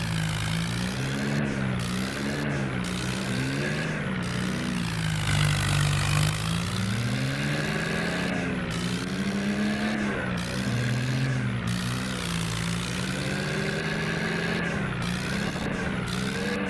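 A John Deere 5050 4x4 tractor engine runs at a steady idle, a continuous close diesel drone with slight swells in pitch throughout.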